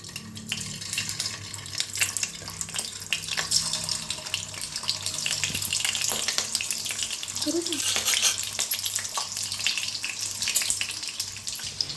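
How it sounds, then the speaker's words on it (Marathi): Eggs cracked into hot oil in a pan for an egg curry, a continuous bright sizzle with watery hiss and scattered clinks, steady and close throughout with no talking. "आता तेल चांगलं गरम झालं आहे ह्याच्यात अंडे सोडून घेऊया आपण"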